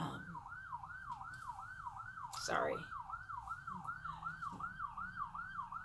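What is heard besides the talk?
ambulance siren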